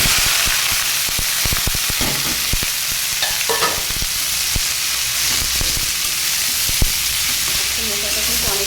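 Chopped banana flower dropped into a hot pan and frying, a loud, constant crackling sizzle with sharp popping spits throughout and a few faint scrapes, no voices.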